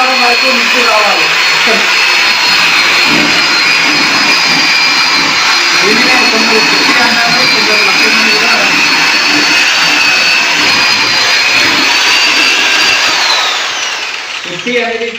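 Steady loud whine and roar of an electric mixing machine churning wall putty in a bucket, continuous and close, tapering slightly near the end.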